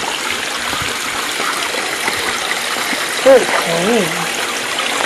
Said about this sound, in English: Yeah, there's a waterfall right here. Little fountain.